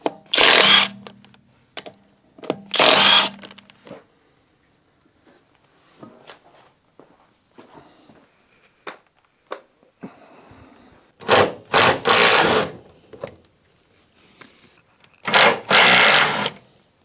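A power tool removes a car wheel on a Rover 216i with a 1.6 Honda DOHC engine. It fires in loud, close, whirring bursts, with quiet pauses and faint clatter between them.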